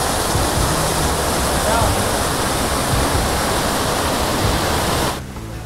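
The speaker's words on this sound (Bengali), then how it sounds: "ছোট্ট ঝর্ণা পাহাড় থেকে নামছে।" A small waterfall runs down a hillside near Jhalong in the Dooars, giving a constant, loud rushing of water that softens slightly just before the end.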